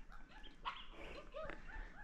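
A dog barks and yips briefly at a Hadzabe settlement, a few short, quiet calls heard at a distance over faint background noise.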